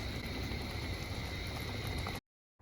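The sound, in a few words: dal (lentils) boiling in a pot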